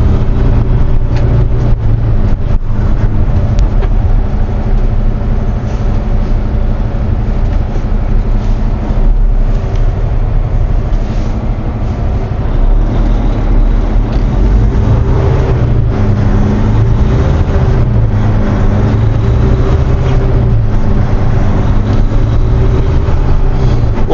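Cab-interior drone of a 2022 Peterbilt 567 with a 605 hp Cummins X15 engine, a steady loud low engine hum running throughout as the truck drives, with faint changes where gears shift.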